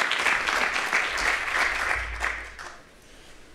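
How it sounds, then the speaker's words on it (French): A conference audience gives a steady burst of applause for an introduced speaker, dense and sustained before tapering off toward the end. "Si vous voulez bien applaudir."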